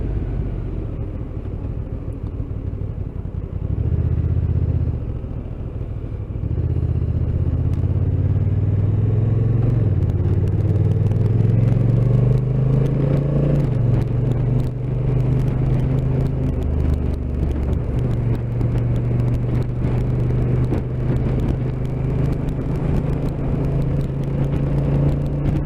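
A Honda NT1100 motorcycle rides hard around a corner, its loud engine drone swelling and shifting pitch as the rider changes down through the gearbox, with constant wind rush and no speech.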